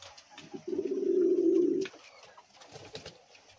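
A king pigeon gives one close, low, sustained coo lasting about a second. Quieter rustling and faint background noise come before and after it.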